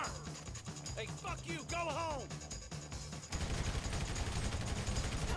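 Rapid gunfire in GTA V, bursts of sharp shots throughout that grow denser and louder in the second half, with a voice talking over the action.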